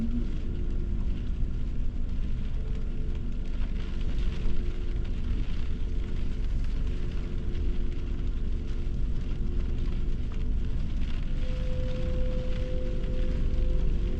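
A steady, low roar of wind from a squall during a storm blows continuously, with a faint high whine appearing near the end; no voices.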